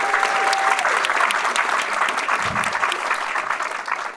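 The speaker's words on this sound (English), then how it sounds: "Let's give Santiago another big round of applause." Sustained audience applause at a TV industry panel in New York, dense and steady from start to finish with a brief low thump partway through.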